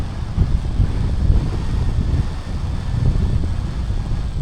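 Wind gusting across a snowy mountain summit in winter, a steady low roar buffeting the microphone, continuous with no other sounds.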